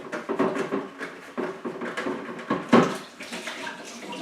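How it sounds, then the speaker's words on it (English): Boiling water is poured into a bucket for sterilising, a splashing, gurgling stream with uneven surges that swells briefly midway, close to the microphone. "I'm just literally going to pour a little bit of boiling water in there like so."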